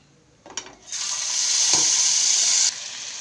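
Hilsa fish pieces go one by one into hot oil with salt, turmeric, nigella seeds and dried red chillies, setting off a sudden loud, close sizzle that hisses steadily for a couple of seconds, then eases.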